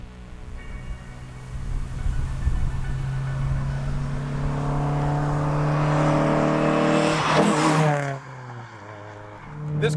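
A 1999 Mitsubishi Eclipse built as a Fast and Furious replica drives by, its engine rising steadily through the gears in a building revving whine, then cutting off abruptly before faintly returning.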